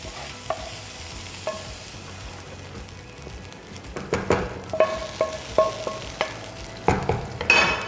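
A tadka of spices and raisins crackles and sizzles in hot oil for chana madra, with sharp pops and spits growing busier toward the end, close up with no talking.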